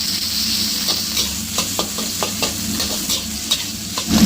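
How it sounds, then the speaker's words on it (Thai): Marinated pork stir-fries over medium heat in a pan for rice noodles with soy sauce, a steady loud sizzle broken by a series of scraping stirs from the spatula, with no talking. "ใส่หมูลงไปแล้วเราผัดเลยครับ"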